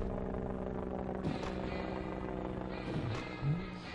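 A helicopter in the zombie strategy game Atom Zombie Smasher thrums faintly and steadily, low and distant, with a couple of brief sharper bursts over the drone.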